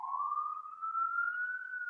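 A police siren wails alone in a single steady tone that rises slowly in pitch, moderately loud and continuous, with no talking over it.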